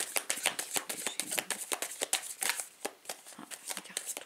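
Tarot cards shuffled by hand in a dense run of rapid riffling flicks and soft slaps, close and fairly quiet, continuing steadily throughout.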